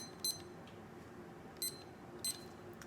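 Three short, faint electronic beeps from a timer being set, spaced irregularly over a quiet room background with no talk.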